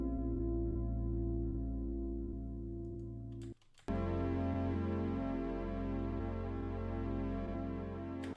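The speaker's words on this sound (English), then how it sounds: "And then the original synth sounds are these." Original synth sounds from Splice samples for a deep house track: steady sustained synth tones with a pulsing low end, a brief dropout midway, then a brighter, fuller layered texture resumes, loud and alone.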